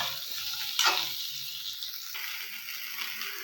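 Ridge gourd stuffing ingredients dry-roast and sizzle in a pan, a soft, continuous crackling hiss with one brief louder stir near the start and no voices.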